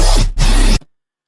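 A harsh, buzzing dubstep growl synth from Sytrus, over-modulated at 100% intensity, blasts at full level, cuts out briefly, returns just as loud, then stops abruptly into silence.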